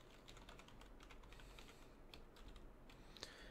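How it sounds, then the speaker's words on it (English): Someone types on a computer keyboard in a fish room full of aquariums, a quick irregular patter of light key clicks over a steady low hum, no talking. "I'm not even typing it in correctly"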